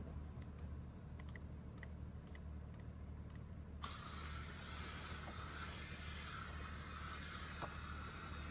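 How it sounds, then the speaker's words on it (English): A garden hose runs into a large potted hibiscus: steady broadband hiss of water spraying, starting faint and swelling to a loud continuous rush about four seconds in, with a few light taps scattered over it and no talk. "Let me go ahead and get the hose and get this guy watered"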